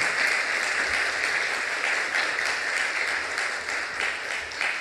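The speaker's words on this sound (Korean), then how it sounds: "여러분 큰 박수로 축하해 주시길 바랍니다" Church congregation applauding in celebration of a newly baptized member, a steady dense wash of many hands clapping throughout, fairly loud and close, with no talk over it.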